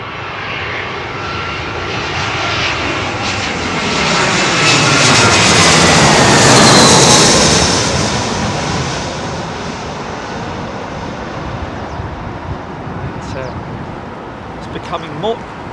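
An airliner arriving on runway 27L at London Heathrow Airport, an engine roar that swells to a loud peak as it passes overhead, then fades to a lingering rumble.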